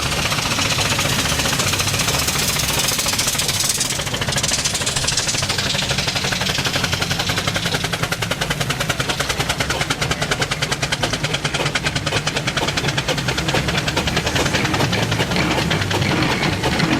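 A steam traction engine with a piston valve runs at a steam rally, giving a loud, continuous rapid chuffing and clattering beat with mechanical knocking under constant outdoor noise.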